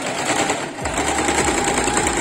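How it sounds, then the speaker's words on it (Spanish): Home sewing machine running a stretch stitch on fabric, a steady close-up mechanical whir with fast repetitive needle clatter that continues throughout without talk. "que vamos a coser así, todo esto, y nos va a dar elasticidad"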